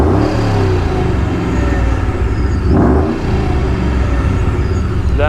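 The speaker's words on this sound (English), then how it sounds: "this car just sounds absolutely aggressive with the supercharger and the aftermarket exhaust on it" A 2005 Ford Mustang GT fitted with a centrifugal supercharger and an aftermarket exhaust revs loudly and close by. Its deep, rough engine roar climbs and falls through a couple of throttle blips and carries a whining note above it.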